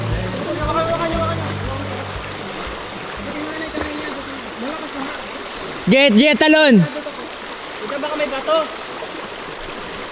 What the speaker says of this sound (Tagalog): Biglang lumakas na yung current